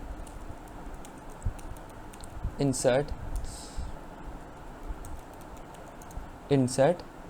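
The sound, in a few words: typing an SQL insert command on a computer keyboard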